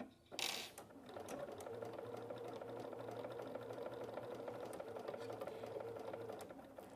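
A Bernina sewing machine fitted with a lap seam foot stitches steadily, a close, even mechanical whirr with rapid rhythmic needle ticking, preceded by a brief rustle.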